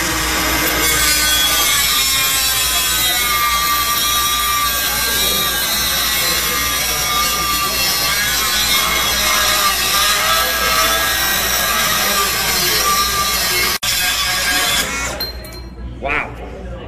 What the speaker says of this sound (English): The new 20 volt cutoff tool with the power stack.